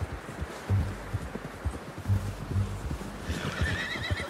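A horse neighs in a Red Dead Redemption 2 game scene, a whinny rising over low rumbling and hoof clatter, with a short trill near the end.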